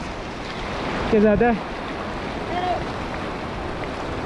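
A horse carries a rider as it wades across Mahodand Lake in the Kalam Valley of Swat. Water and wind make a steady, rushing wash, and someone speaks briefly over it.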